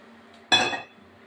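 A lid is set down on a pan of tilapia fish-head curry with a single sharp metallic clink and brief rattle, close and fairly loud against a quiet kitchen background.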